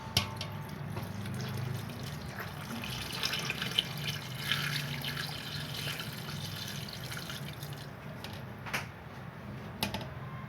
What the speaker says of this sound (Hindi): पानी शामिल कर रही हूँ।